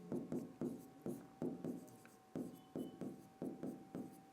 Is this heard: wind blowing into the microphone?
no